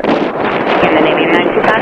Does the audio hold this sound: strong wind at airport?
yes